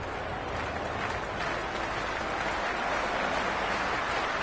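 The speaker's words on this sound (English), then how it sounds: "already the crowd making a hell of a racket" Loud, steady roar of a packed cricket stadium crowd at an IPL match, dense and continuous throughout with a rising swell of cheering near the middle.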